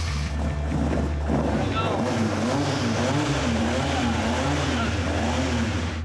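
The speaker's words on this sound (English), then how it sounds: "It is not an easy car to start." A replica Porsche 550 Spyder with a 356 engine runs and revs outdoors, the rough engine note rising and falling in pitch over heavy wind buffeting on the microphone, with voices nearby.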